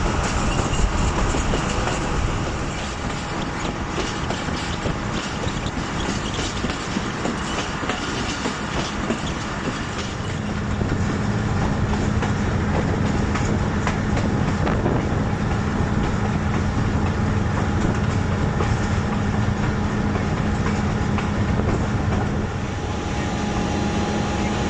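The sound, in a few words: Fareed Express passenger train running on tracks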